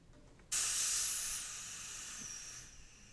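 Compressed air bursts into a loud, steady hiss as a slowly opened valve on an air compressor releases pressure, then eases to a softer, sustained rush that holds to the end.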